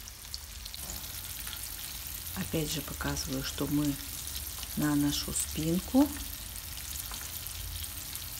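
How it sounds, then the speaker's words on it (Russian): Mackerel fries in boiling oil with a continuous crackling sizzle, while a person talks in Russian over it. "заливать кипящим маслом. Вот, переворачиваем."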